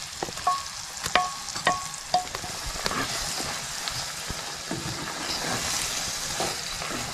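Ground masala paste stir-fried in a pan for a Konkani-style prawn curry, a bright crackling sizzle with several sharp clinks of the spoon early on, then a steadier frying hiss.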